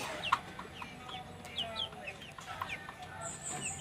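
Month-old Rhode Island Red chicks give soft, scattered chirps and clucks over a faint background hum.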